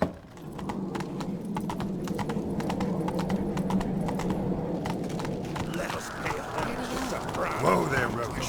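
Horse hooves gallop steadily in The Witcher video game, a fast, even clip-clop rhythm under continuous game sound, with a voice speaking near the end.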